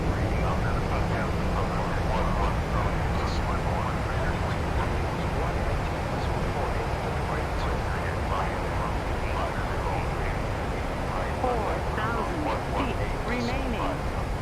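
Reverse thrust roar from a PMDG 737-800 in the Prepar3d flight simulator, a steady broadband rumble and hiss holding at constant loudness for the whole stretch, close and continuous.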